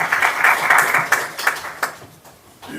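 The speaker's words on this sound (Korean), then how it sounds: "힘찬 박수 부탁드리겠습니다." At a public forum on public hospital prescribing, an audience claps in a burst of applause that thins out and fades within a few seconds.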